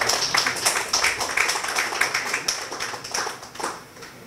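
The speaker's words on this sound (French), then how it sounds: "Je voudrais qu'on applaudisse." Audience at a training workshop in Bassam claps in dense, moderately loud applause, with individual hand claps audible and the sound fading slightly toward the end.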